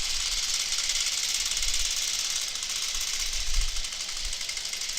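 A computerized quilting machine running a stitch pattern, giving off a steady mechanical whir with rapid ratcheting clicks and occasional low thumps, close and continuous.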